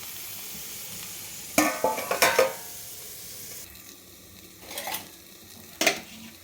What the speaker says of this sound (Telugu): కొద్దిగా కారం వేసి కలుపుతాం. కొంచెం కలుపుతాం.